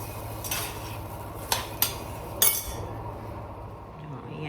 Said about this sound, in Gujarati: અહીંયા શાક વઘાર્યું છે